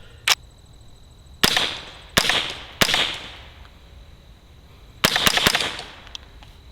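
A .22 rifle fitted with a Rebel SOS 22 suppressor fires subsonic rounds in a series of sharp, cracking reports, single shots and then a quick cluster near the end.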